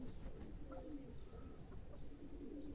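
Soft, low pigeon coos repeat over a steady murmur of background noise, with no voices.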